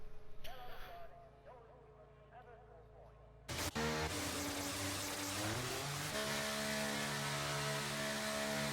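Race car engines in a racing video game at Monza, including a Mercedes leaving the pits, first quiet under a commentator's voice, then a sudden loud surge of high revving engine whine that climbs and holds.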